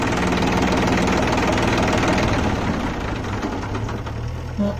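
A New Holland 3230 diesel tractor idling close by: a loud, steady knocking chug that keeps running without a break and eases off slightly toward the end, with no voices.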